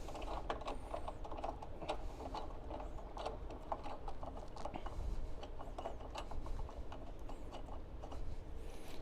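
Tightening the seat adjustment on a Whill Ci power wheelchair, a dense, continuous mechanical ratcheting and grinding with rapid clicks throughout, close and steady with no pauses.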